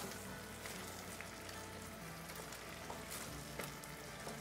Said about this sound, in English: I want that all to melt in and get bubbly.